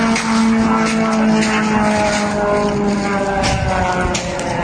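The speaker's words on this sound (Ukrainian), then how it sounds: "Летить безпілотник." A UAV drone flies overhead, its engine giving a loud, steady droning hum with slowly drifting pitch that holds continuously, with no voices.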